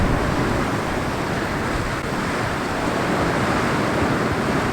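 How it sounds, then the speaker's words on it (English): Waves breaking on rocks at the seashore, heard as a steady, dense wash of surf with some wind rumble, loud and continuous throughout with no distinct individual crashes and no voices. "Now I'm focused out on the end, again just capturing waves breaking."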